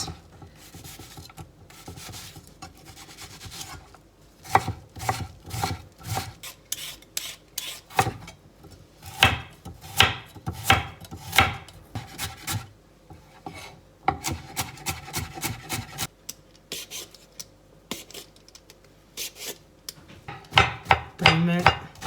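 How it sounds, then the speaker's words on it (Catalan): Knife chopping onion into small cubes on a wooden board, a run of crisp, rapid cuts in bursts with short pauses, close and fairly loud, no talking. "Les tallarem la ceba a quadradets."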